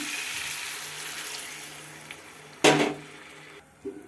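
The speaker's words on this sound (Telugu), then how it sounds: "వాటర్ పోసుకుందాం" A pan of egg, broad bean and tomato curry sizzles quietly before water is poured in, giving a sudden loud hissing burst that fades back to a soft simmer.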